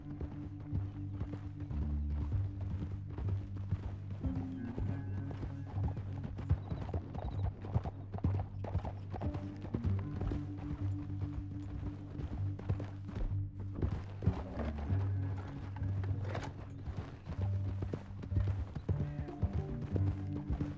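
Hooves clip-clopping steadily on hard ground in Red Dead Redemption 2, a few horses walking with irregular overlapping steps, over a low droning musical background.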